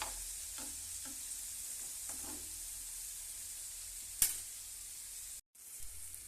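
Tawa paneer frying on a hot griddle, with a soft steady sizzle and scattered faint stirring taps and one sharper scrape, heard close and quiet with a brief dropout near the end.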